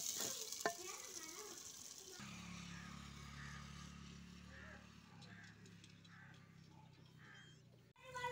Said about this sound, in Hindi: ये हमने प्याज डाल दिए, तेल गरम हो गया था, सरसों का तेल है। प्याज ब्राउन करेंगे हम।